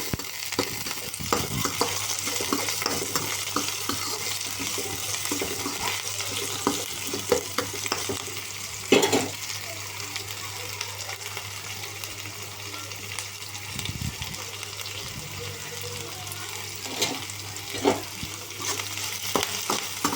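Ridge gourd and chana dal curry frying in a pan, with steady close sizzling and occasional stirring scrapes throughout.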